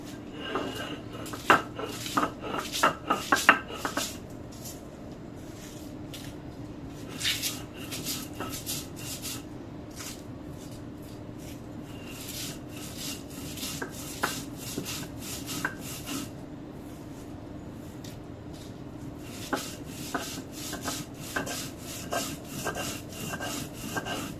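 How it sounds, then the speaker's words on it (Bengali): Green chilies and garlic ground with salt on a flat grinding stone, rhythmic back-and-forth scraping strokes of stone on stone, close and fairly loud, in bursts with a brief lull partway through. "মরিচ আর রসুন আগে বেটে নিব লবণ দিয়া"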